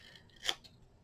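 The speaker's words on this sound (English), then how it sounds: "I'm just going to use my scissors" A single crisp snip of scissors cutting paper at a scrapbook craft table, close and brief, with quiet room tone before and after and no talking.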